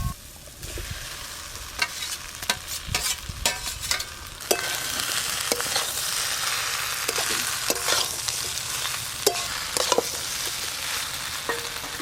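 Spiced okra and potatoes with mustard paste, chili and turmeric being stirred in a hot pan, a steady sizzle under repeated sharp scrapes and knocks of a spoon, close and fairly loud throughout.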